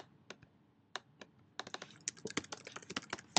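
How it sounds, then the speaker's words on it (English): Rapid typing on a computer keyboard while setting up buttons in Xcode for a Game Center SDK tutorial, a few sparse clicks at first, then a fast, dense run of close keystrokes. "Sorry for my typing."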